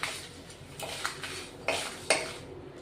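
Whole spices, cloves, black pepper and bay leaf pieces, being dry roasted and stirred in a pan, with scattered metallic scrapes and clinks of a utensil against the pan over a low background hum.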